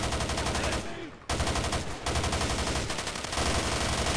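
Sustained automatic gunfire in GTA 5, a loud, dense stream of rapid shots with a short pause near the middle before the barrage resumes, with no talking.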